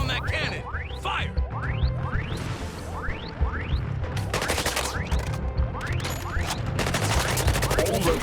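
Video game combat in which artillery fire lands against a cannon: repeated rising whooshes of incoming shells, each ending in a sharp impact. Rapid gunfire and crashes follow, loud and dense throughout.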